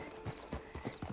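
Horse hooves clip-clopping in Red Dead Redemption 2, four or five evenly spaced soft thuds in a walking rhythm, close but quiet, with no talk over them.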